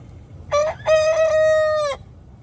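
A red rooster crows once nearby, a short rising note followed by a long sustained cock-a-doodle-doo call, clear and loud against quiet background.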